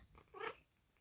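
A domestic cat gives a single short, bright chirp, close and clear, in an otherwise quiet room with no talking.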